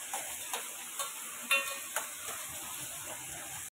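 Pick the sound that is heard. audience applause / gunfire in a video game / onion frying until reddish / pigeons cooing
onion frying until reddish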